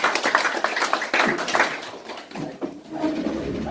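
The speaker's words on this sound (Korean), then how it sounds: "우리 저 윤상은 의원님 다시 한번 박수를 치고" A small audience at a North Korea nuclear forum in a unification hall claps, producing a sparse, uneven patter of hands with distinct individual claps, close and moderately loud, tapering off unevenly.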